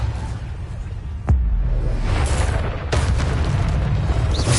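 Bombarda blasting spell explosions in Hogwarts Legacy, a sharp boom followed by another blast a moment later, each with a rumbling tail over steady game ambience.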